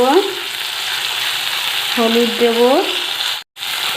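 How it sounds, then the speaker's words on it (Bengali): Food fries in a pan with salt and turmeric, a loud, close, steady sizzle broken by a few squeaky tonal scrapes from stirring and one brief dropout. "তো হলুদ দিয়ে আর একটু কষে নিচ্ছি দেখুন ভালো করে।"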